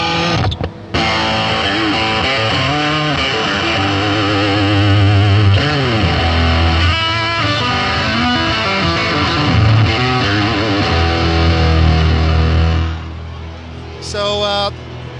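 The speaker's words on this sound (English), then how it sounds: "now we're just hearing this unique kind of electrical drive that we came up with" Heavily distorted electric guitar played through a Plasma Pedal's high-voltage electrical drive, loud and sustained, with ringing chords and bent notes that trail off near the end.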